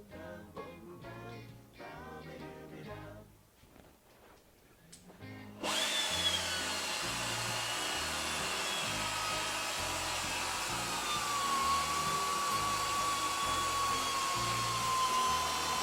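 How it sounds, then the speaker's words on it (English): A sander grinding rust off the wheel mount area of a car during a brake job; after a few seconds of clanks and shop noise the tool starts up and runs as a loud, steady high-pitched whine with a pulsing undertone. "you can only do that with this type of a sander"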